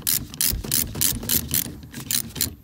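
Ratchet wrench cranking off a strut brace fitting on a Renault Clio 172: rapid bursts of close, loud clicking in about ten quick back-and-forth strokes, with no talking.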